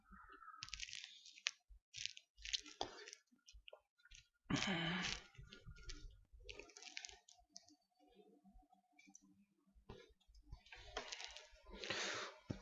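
Computer mouse clicks come in short, crisp bursts at irregular intervals in a quiet room, with faint keyboard-like taps and small rustles between them.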